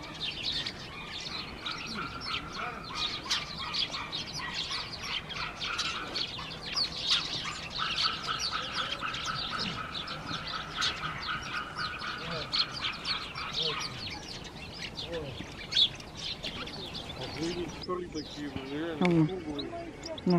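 A flock of small birds, sparrows and bullfinches, chirps and twitters busily and close by in a dense, continuous chorus, while a person talks over them near the end.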